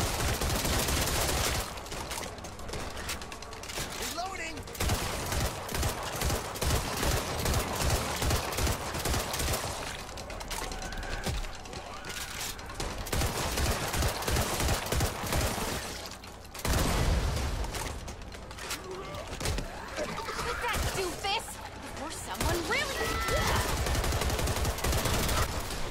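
Gunfire in the zombie shooter Back 4 Blood, dense rapid bursts of automatic weapons crackling almost continuously with brief pauses, loud and close, mixed with impacts and game effects.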